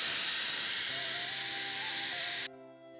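A pressure cooker on the stove vents steam in a loud, steady hiss for a few seconds, then cuts off abruptly, leaving a quieter tonal hum and kitchen background.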